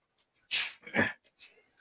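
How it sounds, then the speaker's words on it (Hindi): Two sharp coughs in quick succession, close and fairly loud, followed by a softer breathy exhale. "अबे भाई खांसी आ रहा है"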